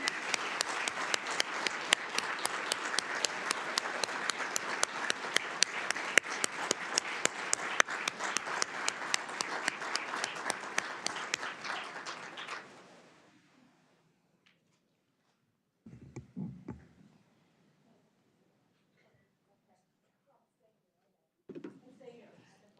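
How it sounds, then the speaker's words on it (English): An audience at a National Guard women's leadership forum gives a steady round of applause for about thirteen seconds, then it fades to quiet, with brief faint talk afterward. "Let's give a round of applause."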